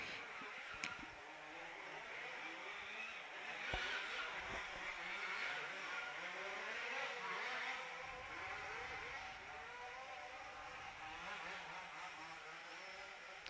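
Large-scale two-wheel-drive off-road RC race cars contest a European Championship final, their engines buzzing and droning continuously at a distance with overlapping revs and no voices.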